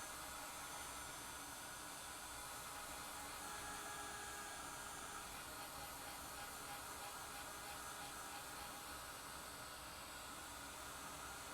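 A hair dryer blows steadily on freshly painted gouache artwork, giving a continuous, close, even rushing whir that holds without a break.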